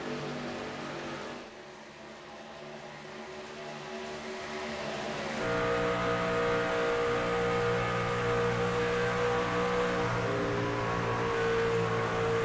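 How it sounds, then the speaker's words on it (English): Race trucks in a sim racing game at Kansas Speedway drone at full throttle, a steady layered engine whine that shifts pitch as the pack passes and grows louder and denser midway, with no talk over it. "they are pretty much full throttle all the way around the speedway"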